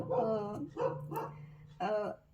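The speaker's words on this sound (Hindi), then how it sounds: "मेरा डॉगी बहुत ज़्यादा भौंक रहा है, शायद उसे कोई दिख गया है" A pet dog barks several times in a row, a run of short, loud yelping barks with gaps between them, close by and mixed with someone talking indoors.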